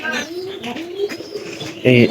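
Pigeons coo softly in low, throaty murmurs, with a louder coo near the end, close by, young pigeons at feeding.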